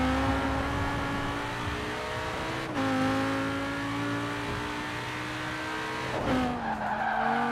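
Audi RS 7 with a V10 engine in Forza Horizon 4 howls at steady high revs, the tone dipping at two gear changes while tyres squeal and skid through corners, loud and continuous with no talk.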